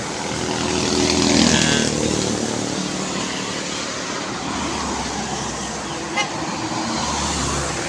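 A Volvo day-trip bus running on a highway between Manila and Bicol, a loud continuous engine and road roar with a swell early on and a brief horn-like toot, no speech.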